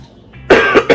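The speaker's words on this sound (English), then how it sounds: "It's that morning cough I get as soon as I open my door to let the dogs out." A person gives a morning cough, a short harsh double burst after a faint breathy lead-in, close and loud.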